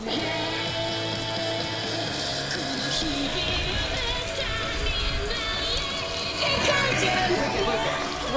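Artificial rain sprayed from hoses on a Japanese music video film set makes a steady, dense hiss and patter of falling water, with crew voices murmuring underneath and a brief louder swell near the end.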